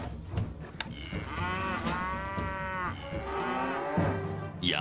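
Cattle moo in the Stronghold strategy game, a long, loud, drawn-out low bellow followed by further lowing over a steady background of game ambience.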